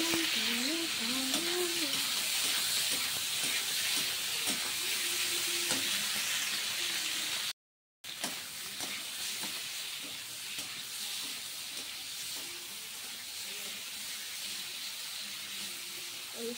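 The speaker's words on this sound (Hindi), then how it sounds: "इसे मैं थोड़ा देर के लिए फ्राई करूँगी" Potatoes and tomatoes fry in a pan for a desi chokha, giving a steady broadband sizzle with occasional stirring scrapes, fairly close and continuous, interrupted by a brief silent gap midway.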